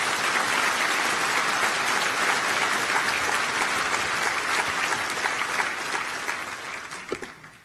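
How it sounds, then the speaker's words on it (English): A law enforcement awards ceremony crowd applauds the nominees, with sustained, even clapping from many hands that gradually thins toward the end. "A round of applause for all the nominees."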